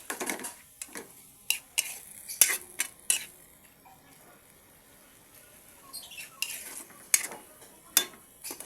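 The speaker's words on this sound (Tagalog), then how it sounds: "saute lang natin siya hanggang tuluyang maluto yung ating onion" Onion, garlic and tomatoes sauté in a pan with a faint sizzle, punctuated by sharp scrapes and clinks of a metal utensil stirring against the pan at irregular intervals.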